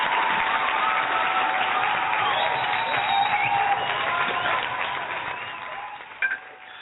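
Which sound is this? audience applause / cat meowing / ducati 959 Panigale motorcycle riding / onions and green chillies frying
audience applause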